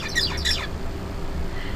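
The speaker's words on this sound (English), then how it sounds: "First, the bird sings." A songbird sings a short learned song, a quick burst of high chirping notes in the first half second, then fading into quiet background hiss.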